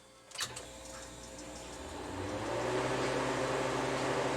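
A freeze dryer hums after a click near the start, its steady mechanical drone building gradually in loudness and continuing alone without talk.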